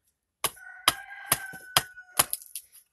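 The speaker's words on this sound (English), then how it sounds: "You can hear the rooster in the background." A rooster crows faintly in the background of a rural barn setting. The crow is partly masked by a series of loud, sharp axe chops splitting spoon blanks nearby.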